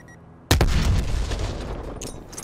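A sharp, loud enemy sniper rifle shot in Call of Duty: Black Ops Cold War, a single crack followed by a rolling echo that fades over two seconds, with faint clatter afterward.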